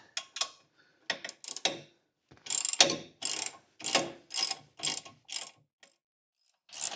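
A ratchet tightens 15 mm frame bolts on a UTV snowplow mount, a series of close, sharp clicking bursts in a steady back-and-forth rhythm with short gaps between strokes.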